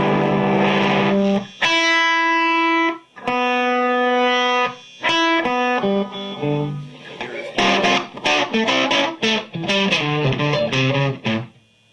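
An electric guitar runs through a distortion pedal while its boost control is swept, giving loud distorted chords and single notes in bursts with short gaps, the tone shifting as the control moves.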